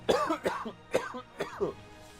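Four separate coughs from a man getting over a cold, sharp and close to the mic, spaced roughly half a second apart, with no talk over them.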